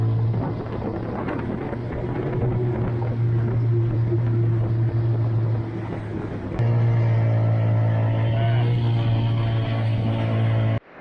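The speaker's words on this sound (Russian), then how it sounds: "Лодка идет, прижав нос, потому что работают интерцепторы на скорости." A GROM-335 motorboat runs at speed through wind-driven waves in the Gulf of Finland in frosty weather, its engine a loud steady drone throughout with rushing water and wind noise, the pitch shifting slightly as the hull turns.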